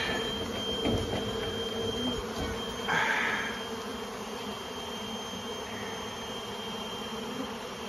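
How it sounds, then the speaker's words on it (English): Honeybees robbing a colony swarm in the air, a steady buzzing drone of many insects with a louder close pass of one bee near the middle, over a constant outdoor hum. "I wanted to show you the robbing that's going on. There's a lot of bees"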